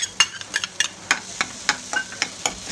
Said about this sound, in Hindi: हम डाल देंगे 1 बारीक काटा हुआ प्याज।